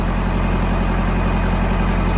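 An old farm tractor engine, rebuilt about 35 years ago, idles in the cold while warming up, giving a steady, loud, close low rumble with no talk.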